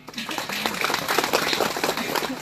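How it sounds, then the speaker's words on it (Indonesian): Crowd applause at an Indonesian political rally, a dense wash of clapping under murmured voices that stays steady and fairly loud throughout. "Kita berikan tepuk tangan untuk hal ini."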